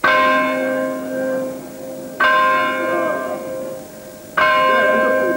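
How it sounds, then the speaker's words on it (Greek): Paris church bells toll as the city rings in the year 2000, three loud, resonant strikes evenly spaced about two seconds apart, each hum lingering and decaying, with no talking. "οι καμπάνες των 108 εκκλησιών της πόλης θα σημάνουν για 20 ολόκληρα λεπτά"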